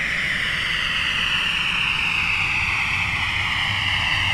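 Boeing 737 jet engines from a flight-simulator sound mod roar in a steady, loud whine with a broad rumble underneath, holding continuously without any speech.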